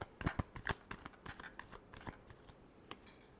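A tarot deck is shuffled by hand, a quick run of soft papery riffles and taps, faint and close, with no voices.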